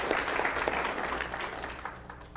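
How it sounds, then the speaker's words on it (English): Board meeting audience applauding teacher Ricky Davis, a moderate, steady round of clapping in a room that tapers off over a couple of seconds. "Davis a round of applause"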